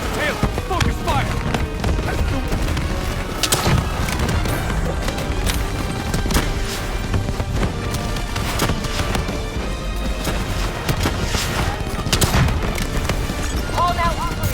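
Rapid gunfire and booming blasts from a boss fight in Black Ops 3 run continuously at high volume, with game voices speaking over the constant barrage.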